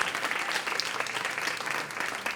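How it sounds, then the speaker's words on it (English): A crowd at a community engagement event claps for a weekend committee, producing a continuous, fairly loud wash of applause throughout without any talking. "Let's give them a round of applause."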